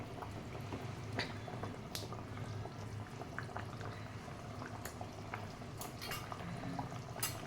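Rohu fish-head curry broth with roasted gobindobhog rice bubbling in a pot, a soft steady simmer with occasional small pops and clinks, no voices.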